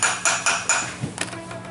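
A socket is struck with a hammer to drive a bearing into a scooter part, giving four sharp metallic knocks in a quick even rhythm up close, followed by softer clinks and a final tap.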